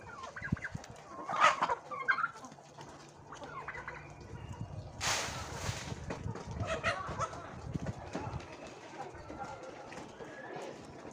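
Turkeys and other poultry at evening feeding time, with gobbling and clucking calls scattered through someone talking nearby, plus rustling and a brief noisy burst midway.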